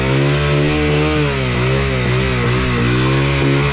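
A nearby Rusi motorcycle engine buzzes loudly and steadily, with small rhythmic throttle blips pulsing through the raspy drone.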